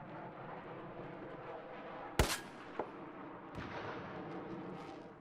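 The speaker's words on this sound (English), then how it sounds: "my shots are all detonating exactly where I want them to" XM25 airburst rounds from Battlefield 4 detonate as two sharp cracks close together, the first loud and the second fainter, over a steady background hum.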